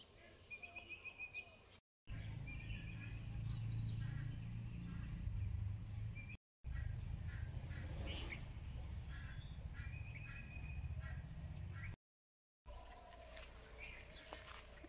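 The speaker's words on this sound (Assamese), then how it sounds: "চাৰিওপিনে গছ-গছনি আৰু চৰাই চিৰিকটি মাত শুনি পাই খুবেই ভাল লাগে" Birds chirp and crows caw around a tree-filled home garden in the evening, with repeated calls over a steady low background rumble and brief gaps of silence.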